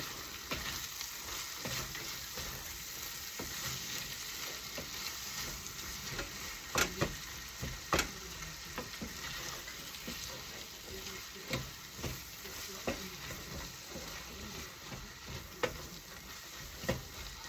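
Spicy corned beef with potatoes sizzles steadily in a frying pan, with scattered scraping knocks of a spoon stirring through it, close and fairly quiet.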